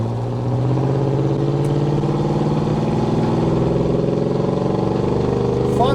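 A 1985 Chevrolet K10 square-body pickup with a 305 V8 and 700R4 automatic pulls away and accelerates on the road, a loud, close, continuous engine drone that rises steadily in pitch as it gains speed.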